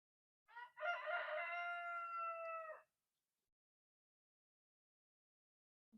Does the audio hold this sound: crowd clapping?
no